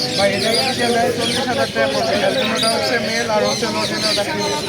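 Dense, constant chatter of many parrots and other birds calling and screeching at once at a bird market in Bangladesh, a crowded din with someone talking over it.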